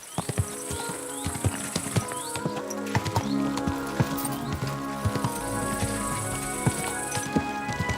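Horse hooves clip-clop at a steady walking rhythm on a hard surface in the medieval video game Kingdom Come Deliverance II, close and moderately loud, with a faint tonal ambience behind.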